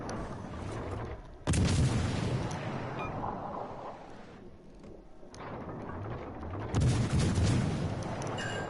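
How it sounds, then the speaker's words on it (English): Heavy naval shells fire from a warship in a video game, two deep booming salvos about five seconds apart, each followed by a long rumbling roar that slowly fades, loud and without talking. "My shells are going through the island"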